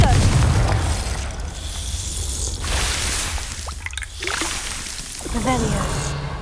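A Confringo blasting curse from Hogwarts Legacy bursts in a loud, broadband explosion over a constant low rumble, followed by crackling debris and a second blast later, with no talk during it.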